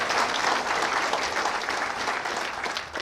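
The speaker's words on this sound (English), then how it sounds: "Big round of applause, ladies and gentlemen, as they go." A crowd applauds after startup pitch presentations at an event in Brisbane, loud continuous clapping from many hands that fades slightly toward the end.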